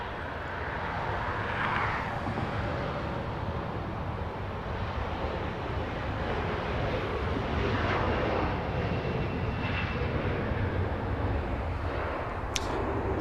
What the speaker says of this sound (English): was a heavy departure